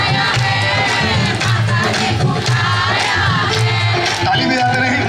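A large crowd at a Hindu jagran shouting together loudly in unison, a dense, sustained roar of many voices with rhythmic chanting over an amplified, reverberant sound system.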